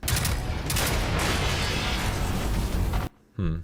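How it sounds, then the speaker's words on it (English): A dense, continuous barrage of overlapping explosions and gunfire-like blasts from the video game Generation Zero (pre-alpha), loud and close, cutting off abruptly into near silence before a short final burst. "I think I just heard 10 explosion sounds in one"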